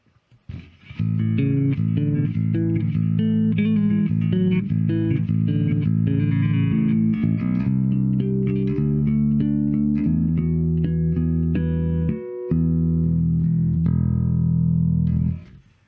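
An electric bass strung with Ernie Ball Cobalt Slinky round wound strings plays a run of sustained notes and shifting phrases, loud and full, briefly cutting out near the end before ringing on, with no speech.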